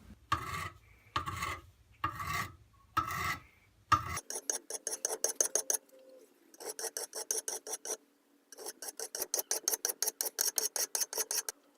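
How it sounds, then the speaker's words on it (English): A knife made from a lawnmower blade is drawn across a sharpening stone in steady rhythmic strokes, first a few slow heavy passes, then quicker runs of short rasping scrapes, close and clear with no talking. "I've never been that great at using a stone to sharpen a knife"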